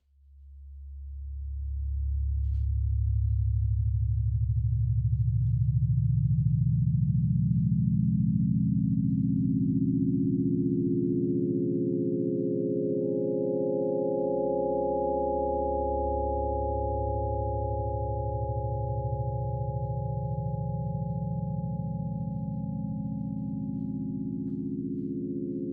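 Synthesized sine tones from SuperCollider in a slow arpeggio of long, overlapping notes stepping upward, each sustaining and fading a little quieter over time, smooth and pure with no other sounds.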